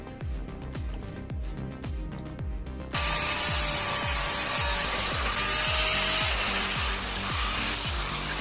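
Sandpaper rubbed by hand over the painted steel shell of a gas tank, stripping paint for a DIY metal foundry furnace: steady rhythmic scraping strokes, about two per second, close and loud, growing harsher and denser halfway through.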